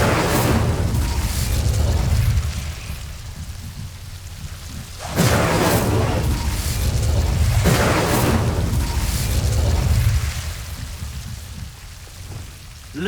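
A fire spell cast again and again in the wizarding video game Hogwarts Legacy. Loud whooshing bursts of flame come roughly every two to three seconds and fade between casts, with no voices over them.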